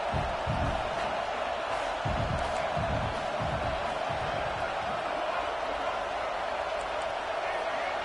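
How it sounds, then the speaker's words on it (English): A football stadium crowd roars continuously throughout a red zone defensive stand in an LSU game, a dense, steady wall of cheering with low thumps and rumbles underneath. "This crowd is trying to inspire this defense to make a big red zone stop."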